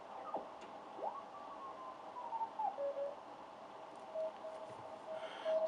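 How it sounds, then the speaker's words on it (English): Morse code (CW) signals received on an amateur radio: faint steady tones and short keyed beeps drift in and out over a hiss of static, with a couple of stations heard, no voices. "Morse code."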